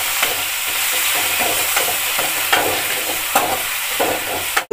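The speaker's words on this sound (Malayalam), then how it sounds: "ജാതിക്ക ചെറുങ്ങനെ ഇളക്കി കൊടുക്കാം" Small pieces of nutmeg fry in hot oil for a nutmeg pickle, giving a close, constant sizzle broken by regular scraping strokes of a spoon stirring the pan.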